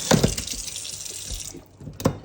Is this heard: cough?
no